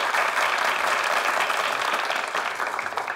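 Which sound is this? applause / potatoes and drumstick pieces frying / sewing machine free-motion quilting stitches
applause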